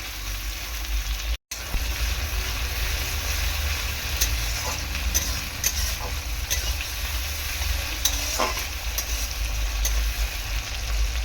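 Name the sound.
tomato and tilapia curry sautéing in pan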